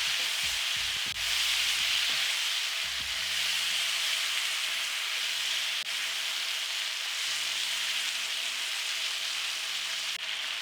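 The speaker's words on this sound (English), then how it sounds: "In goes the pineapples. Cook until the pineapples are slightly warmed up." Pineapple chunks sauté in a pan with chicken for sweet and sour chicken, giving a steady, loud sizzle with scraping and stirring sounds near the start and around the third second.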